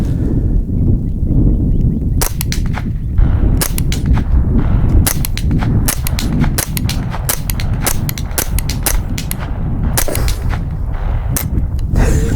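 A Winchester Wildcat SR .22LR rifle fires a 10-shot string outdoors. The cracks come at an uneven pace, sharp and close, over a constant loud background rush.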